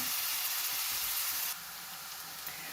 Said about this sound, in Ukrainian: і так цибулька в нас гарненько піджарилася